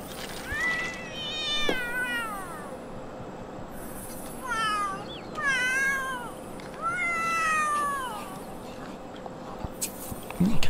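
A cat in The Sims 3 meows repeatedly, several drawn-out, wavering cries fairly close and loud, separated by short pauses over a low game background hum.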